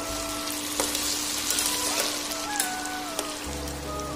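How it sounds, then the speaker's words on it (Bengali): Meat being sautéed (kosha) in a pot sizzles in a dense, steady crackle, with a constant hum in the background and a few light stirring knocks. "দেখো মাংসটা কষাচ্ছি"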